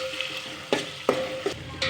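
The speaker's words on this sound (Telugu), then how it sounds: "అల్లం వెల్లుల్లి పేస్ట్ మంచిగా ఆయిల్లో ఫ్రై చేయాలి" Ginger garlic paste fries in oil for an okra pulusu, giving a low sizzle broken by four or five sharp stirring scrapes against the pan, close up with no voices.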